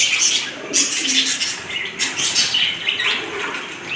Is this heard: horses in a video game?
no